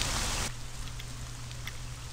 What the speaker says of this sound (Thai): ฝนจะขยันตกไปถึงไหนกัน